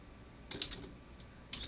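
Typing on a computer keyboard while entering text into an Excel spreadsheet formula: two quick bursts of a few light clicks each, separated by a pause, close and fairly quiet.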